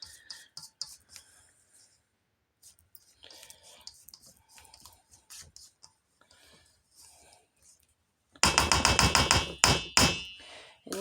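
Spatula scraping the sides of a mixing bowl of no-bake caramel turtle pumpkin pie filling. Soft, intermittent scrapes and taps come first, then a burst of louder, rapid scraping near the end.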